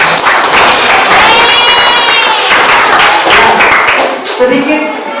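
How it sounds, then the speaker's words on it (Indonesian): A classroom of students claps for their classmates' group work in a school civics lesson, applause filling the room for several seconds with a bright whistle-like tone over it, then trailing off near the end. "tepuk tangan dulu"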